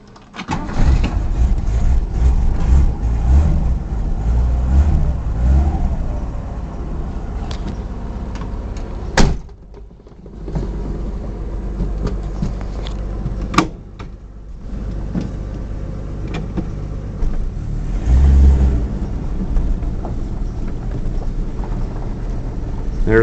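A 1962 Ford Falcon station wagon with a manual choke cranks and fires, then settles into a rough, loud idle up close, with sharp clunks and a brief dip around the middle before running on steadily.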